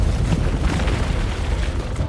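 A bomb blast on a bridge in the Indian film Dhamaka, heard as a dense, sustained low rumbling roar that fills the short moment without pause.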